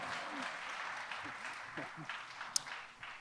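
An audience at a congressional panel discussion on housing claps in a steady, moderate patter that fades gradually, with a speaker's voice talking over the clapping.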